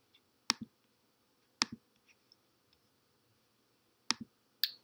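Sharp computer mouse clicks, in pairs at around half a second, again at about two seconds and near the four- and five-second marks, close and crisp against a quiet room.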